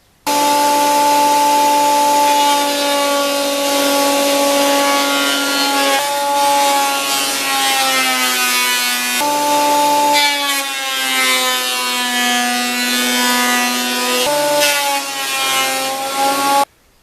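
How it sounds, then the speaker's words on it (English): Thickness planer feeding rough oak pallet boards, a loud, sustained high whine with strong tonal harmonics that dips briefly as each pass changes, close and continuous. "So I've got the planer all set up, and it will allow me to take rough boards like this and make them look like this."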